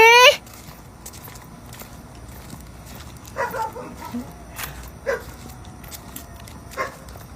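A dog gives a few short, spaced barks and yips at moderate distance against a quiet outdoor background at dawn, after a brief sound at the start.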